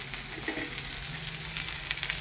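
Bitter gourd and potato frying with onion greens in a pan, a continuous soft crackling sizzle at close range with faint stirring, no voices.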